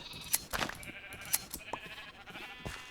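Minecraft sheep let out a few brief bleats spread over a few seconds, one louder near the start and softer ones after, with light clicking game sounds around them.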